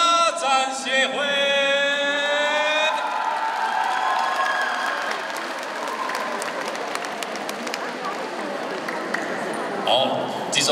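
An audience bursts into applause and cheering at a community dance showcase. Dense clapping builds and holds, with whoops and a voice over the crowd.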